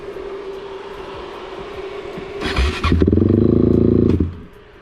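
A Honda TRX 450 ATV engine starts up nearby. There is a brief clattering crank, then a loud steady idle that runs for over a second before cutting off, after a quieter stretch of background hum.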